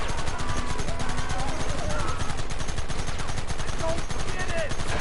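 A relentless barrage of rapid gunfire in the Red Dead Redemption video game, dense machine-gun-like shots hammering steadily and loudly for several seconds without pause.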